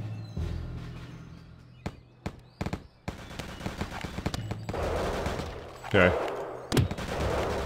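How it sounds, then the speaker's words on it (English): Gunfire cracks and bursts in the game Return to Castle Wolfenstein: scattered single shots, then denser rattling fire with a couple of louder reports near the end, over game ambience, with a brief spoken word. "I'm hearing shots coming from the compound"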